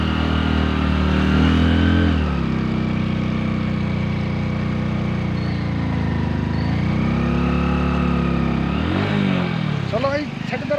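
A motorbike engine drones close by on a road in Bhutan, holding a steady low hum with slight pitch rises and falls before shifting near the end, with voices talking over it.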